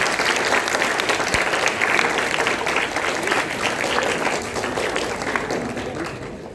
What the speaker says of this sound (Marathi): मी टाळ्या वाजवून तुमचं अभिनंदन करते